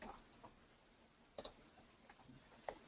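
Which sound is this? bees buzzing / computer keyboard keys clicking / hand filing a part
computer keyboard keys clicking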